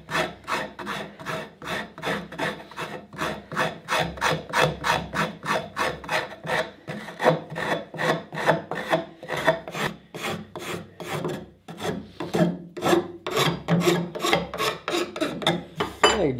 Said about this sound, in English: Take my file, my rasp.